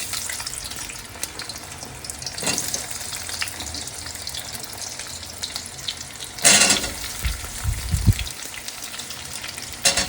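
Continuous close sizzle of potatoes frying in oil with panch phoron, with a few clatters of a spoon or pan and a brief louder burst midway.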